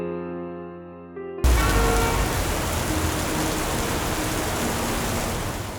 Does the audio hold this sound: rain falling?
yes